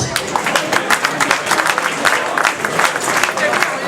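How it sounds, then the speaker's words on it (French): An audience at a post-match event for a sports club applauds a guest being welcomed, a loud, close, busy stretch of clapping with crowd noise mixed in throughout. "Kabir à nos côtés, sous vos applaudissements."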